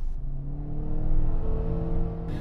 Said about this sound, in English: the car I'm driving, which is the TDI